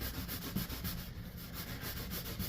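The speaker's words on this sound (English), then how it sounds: "it's cleaning that patina off really nicely. That's going to leave a nice finish already with 150 grit" A stainless steel sink is being sanded with 150 grit, producing a continuous close abrasive rubbing with a faint back-and-forth rhythm.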